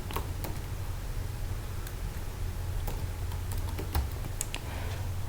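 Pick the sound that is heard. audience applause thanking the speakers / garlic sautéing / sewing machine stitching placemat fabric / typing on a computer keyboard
typing on a computer keyboard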